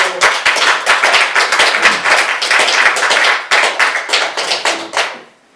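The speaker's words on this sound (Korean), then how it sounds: "힘도 내야 하지만 박수를 격려하고 하시죠." Applause from a church congregation during a pastoral planning lecture, loud dense clapping sustained for about five seconds before tapering off quickly at the end, with no talking over it.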